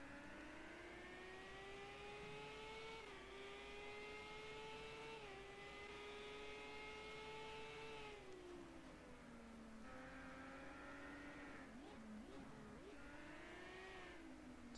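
IndyCar race car engine at Barber Motorsports Park, heard onboard as a loud sustained high-pitched whine that climbs with revs, drops sharply at each gear change and stutters on downshifts through the braking zones.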